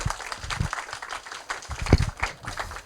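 A small audience at a physical education gala show claps to welcome a middle school PE teacher, a sparse, uneven patter of hands rising and falling briefly.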